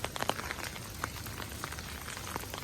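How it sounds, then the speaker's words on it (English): Heavy rain falls steadily in California, a dense hiss of drops pattering on hard surfaces with scattered louder splats, continuous and fairly close. "I don't feel like walking in this rain."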